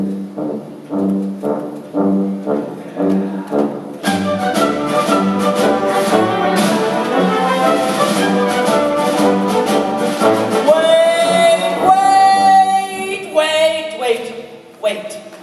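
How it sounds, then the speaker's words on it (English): A tuba plays a well-known melody in a symphony-style setting, with deep sustained notes joined by fuller orchestral accompaniment that swells into brighter, higher tones toward the end. "the tuba, Mr. Mozart, I know you don't know much about the tuba, but it's very famous for a melody that sounds like this"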